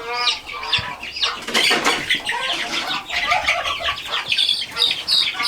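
Newly hatched chicks, among them a little black one, peep and cheep close by in a busy, continuous chorus of high chirps and clucks.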